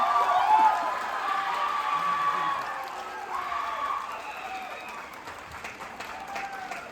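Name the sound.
audience applause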